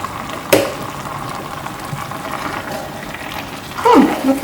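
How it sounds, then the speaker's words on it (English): Palm oil cooking in a pot for Cameroonian eru (okazi) makes a steady low bubbling simmer throughout, with a sharp clatter near the start and busier sputtering bursts toward the end. "We just give our palm oil like 5 minutes to get cooked"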